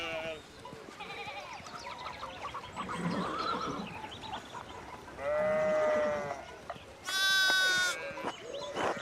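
A horse in the 16th-century video game Pentiment gives two loud whinnies near the end, following earlier animal calls and murmuring voices.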